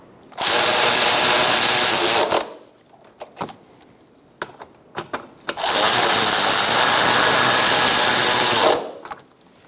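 A power tool tightens radiator mounting bolts on a 2012-2017 Hyundai Accent, running in two long, loud, close bursts of steady whirring, separated by a pause filled with light clicks and handling noises.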